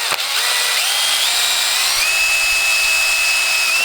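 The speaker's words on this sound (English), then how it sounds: "I'm actually going to drill a hole in the top of that" A power drill bores a hole into the top of a homemade budget monopod, whining steadily and close with a rising then settling motor pitch and no talk.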